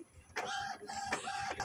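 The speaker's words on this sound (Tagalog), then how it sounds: "So, ito na printer na to, guys." A home inkjet-style printer, recently repaired, runs while printing Christmas loot bag images, giving repeated whirring mechanical passes with short pauses between them, close and fairly quiet with no talking.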